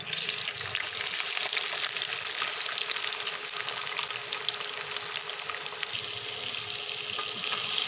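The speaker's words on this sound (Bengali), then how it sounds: "তেল গরম হয়ে গেছে, এখন ছেঁকে রাখা সয়াবিনগুলো দিয়ে দিব।" Drained soybean chunks fry in hot oil with a constant dense sizzle and crackle, close and even in level throughout, with faint stirring under it and no voices.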